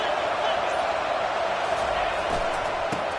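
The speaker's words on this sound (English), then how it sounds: "Listen to this crowd just shaking the girders of this place" A stadium crowd roars steadily throughout at a college football game, a dense, sustained wall of cheering with no pauses from start to finish.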